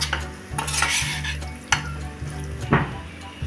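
A spoon scrapes and stirs homemade wheat-flour pasta with masala in a pan over a soft background sizzle, with several distinct scraping strokes against the metal and no talking.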